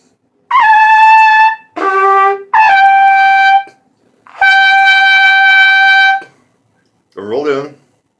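Trumpet played with the lips rolled in but no tongue arch, a series of loud, bright, strained sustained notes separated by short pauses, ending with a brief shaky tone.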